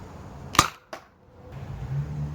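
A toy dart blaster fitted with a Boomco barrel fires with a sharp snapping pop, followed by a quieter second click and a faint low hum afterward.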